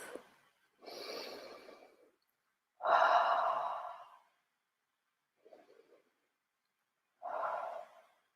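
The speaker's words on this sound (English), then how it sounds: "Take 3 deep breaths." Several slow, deep breaths during a guided relaxation, close and soft, each long airy inhale or exhale separated by quiet pauses, with a short faint breath near the middle.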